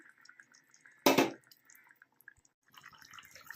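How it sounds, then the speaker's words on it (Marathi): Tamarind water is poured into a dried bombil curry cooking with drumstick pods: one short, close splashing pour lasting a fraction of a second, then quiet with faint kitchen clatter. "आता आपण ह्याच्यात चिंचेचं पाणी टाकूया"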